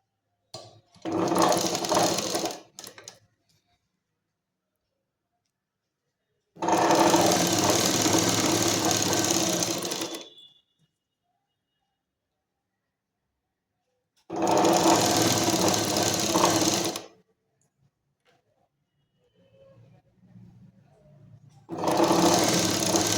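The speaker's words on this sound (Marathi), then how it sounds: "तर जी रेषा दिलेली आहे तिच्यावर बरोबर फोल्ड करून या कपड्याला आपण टीप मारून घेणार आहोत." A sewing machine stitches a folded collar strip for a kurti. It runs in four loud bursts of fast, even whirring, separated by quiet pauses, with no talking.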